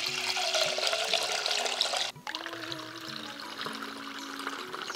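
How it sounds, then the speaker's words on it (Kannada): Soaked moong dal is rinsed under running water in a vessel, a close, steady splash and pour that cuts off briefly partway and resumes as trickling water with some clinks. "ಇದು ಒಂದೆರಡು ಸಲ ತೊಳ್ಕೊಳ್ಳು."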